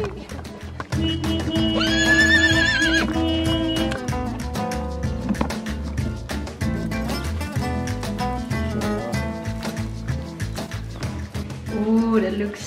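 Skinny stallion neighing loudly at mares, with repeated shrill whinnies and clip-clop of hooves close by, the calls rising and falling over several seconds.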